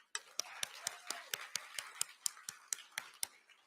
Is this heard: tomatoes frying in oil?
no